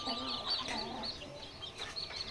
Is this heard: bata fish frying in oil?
no